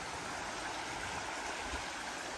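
A river flows near a campsite in the Logar Valley, giving a steady, even rush of water with no voices over it.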